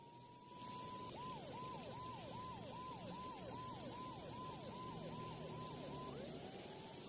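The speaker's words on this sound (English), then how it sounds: "Mona must have heard the sirens too." Police siren in the video game Max Payne 2, a steady tone breaking into a repeated wailing yelp, heard over constant heavy rain, with no talk.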